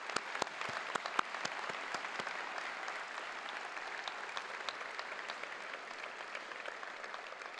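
An audience applauds after a valedictory address at a QUT Faculty of Science graduation ceremony, with steady, sustained clapping from a large crowd in a hall and a few sharper individual claps standing out at the start.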